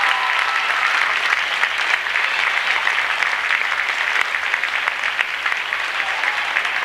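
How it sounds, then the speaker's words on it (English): A crowd in an auditorium applauds both teams after a girls' varsity basketball state championship game between West Rutland and South Royalton, with loud, continuous clapping held steady for several seconds. "Yeah, nice round of applause for both teams."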